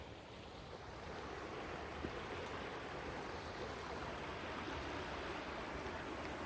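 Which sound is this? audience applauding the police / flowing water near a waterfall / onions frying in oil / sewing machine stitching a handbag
flowing water near a waterfall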